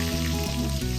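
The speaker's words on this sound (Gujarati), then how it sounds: "હવે આપણે મીઠા લીમડાના 10 થી 12 જેટલા પત્તા લીધા છે તેને ધોઈને નાખી દઈએ" Ten to twelve washed curry leaves hit hot oil with mustard seeds, cumin and asafoetida, giving a short, close, bright sizzle with a couple of spits.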